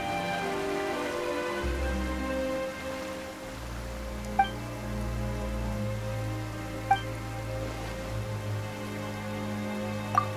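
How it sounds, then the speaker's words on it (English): Steady rain falls in the Genshin Impact video game, a soft even patter under a low tonal musical drone, with a few faint sharp chimes. "Why is it raining all of a sudden?"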